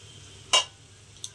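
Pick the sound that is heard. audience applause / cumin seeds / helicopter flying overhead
cumin seeds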